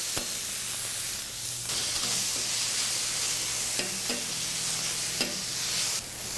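Meat sizzles on a hot griddle as the first step of yakisoba, a steady close hiss broken by a few sharp scraping stirs, with no talking.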